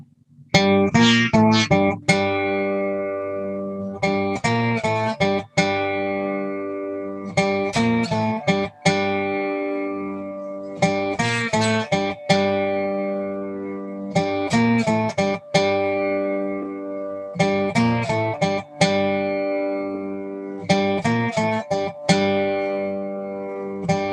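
Slide guitar rings out in repeated octave phrases, clusters of plucked notes followed by sustained, decaying chords, loud and close with no talking.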